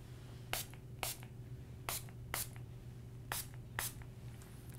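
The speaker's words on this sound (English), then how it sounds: "I've got a little spray bottle here with water." A small water spray bottle mists droplets onto a capacitive touch-button panel overlay in six short, sharp hissing bursts spaced about half a second to a second apart, over a quiet steady hum.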